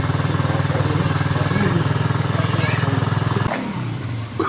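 A motorcycle engine runs steadily close by with a throbbing idle rhythm, then cuts off abruptly near the end, with people talking faintly over it.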